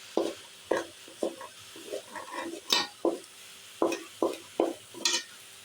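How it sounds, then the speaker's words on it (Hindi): A spoon pushes fried vegetables aside in a pan for samosa filling, giving a series of close, distinct scraping and stirring strokes in an irregular rhythm, with a light sizzle underneath. "3 मिनट भूनने के बाद ना इस सारी सब्जियों को आपने साइड पे कर लेना"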